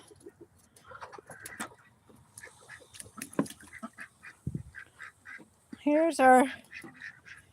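Ducks and chickens settle into their shelter for the night, the chickens roosting up high and the ducks below. Scattered soft calls and rustles lead to one loud, nasal quacking burst near the end, with people talking quietly now and then.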